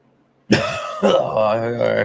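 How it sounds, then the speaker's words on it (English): Someone coughs hard twice after smoking a hash hole, a close harsh throat-rasping burst followed by a longer, voiced cough. "I caved. I coughed."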